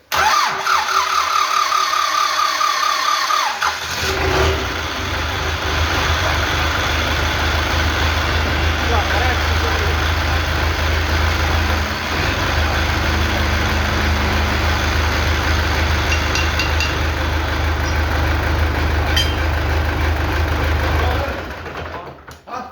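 Vehicle engine started with a portable jump starter: a few seconds of cranking, then the motor catches and settles into a loud, steady idle that runs for about seventeen seconds before cutting off.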